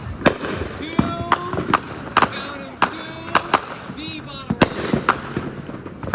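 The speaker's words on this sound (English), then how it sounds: "he's gonna light a bottle rocket." Bottle rocket fireworks launch outdoors in quick succession, with sharp pops, bangs and thin whistling streaks. The bursts land at an irregular rhythm, and people's voices are heard in the background.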